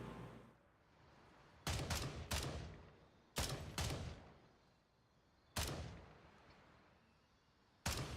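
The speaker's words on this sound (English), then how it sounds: "They did shoot a lantern with a pistol." Pistol shots aimed at a lantern in Gray Zone Warfare, four sharp loud cracks spaced a second or two apart, each trailing into a short echoing decay over quiet ambience.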